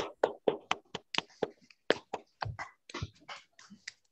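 Applause from participants in an online meeting coming through their microphones: a burst of irregular, distinct hand claps, fairly close and sharp, with no talking.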